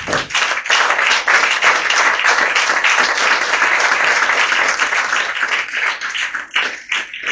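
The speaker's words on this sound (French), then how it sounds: "On acclame le Seigneur pour sa parole." A church congregation at a Sunday service bursting into loud, sustained applause, dense clapping filling the room throughout and thinning slightly toward the end.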